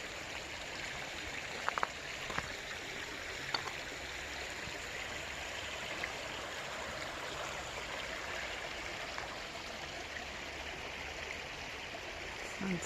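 A small creek flows at a trail crossing in the Cincinnati Nature Center, making a soft, steady trickle and babble that carries on throughout with a few faint clicks and no voices.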